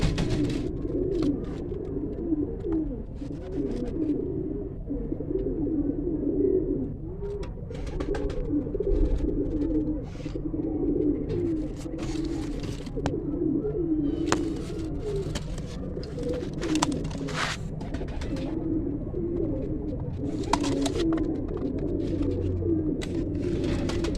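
Pure Sheikhan breeder pigeons coo continuously and close at hand, with overlapping throaty calls, plus scattered sharp clicks and flutters throughout a long stretch without talk.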